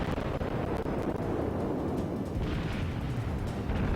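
Ship guns firing in World of Warships, dense overlapping booms and rumbling blasts that run continuously at loud level, with no talking.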